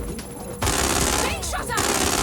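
Dense, rapid gunfire rattles through a Watch Dogs Legion firefight, loud and sustained, with voices shouting over the shots.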